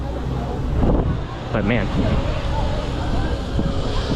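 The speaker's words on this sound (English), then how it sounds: "it is super windy right now here" Strong wind buffets a microphone outdoors at an amusement park in Beijing, a continuous roaring rush under a man's speech.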